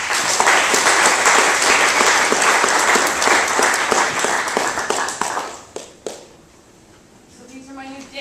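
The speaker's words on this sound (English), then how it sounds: "Give me a round of applause." A theatre audience applauds a performance by the Whirlygigs, a dense, loud wash of clapping that fades out over several seconds before quiet talk begins near the end.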